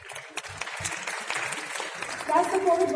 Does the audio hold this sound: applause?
yes